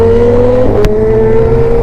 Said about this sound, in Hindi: क्या आवाज़ है S1000 की।